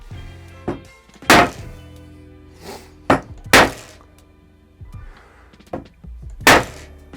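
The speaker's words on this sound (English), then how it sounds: "What I'm going to do is just bang it at an angle" Sharp metallic bangs as an airless paint sprayer's ball cage part is struck at an angle to knock it loose, about five loud, separate hits spaced a second or two apart with faint handling noise between.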